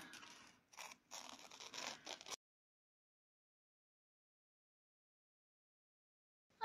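Paper being torn by hand to trim a large faux postal stamp for junk journaling, a couple of ragged ripping bursts up close over about two seconds, then long silence.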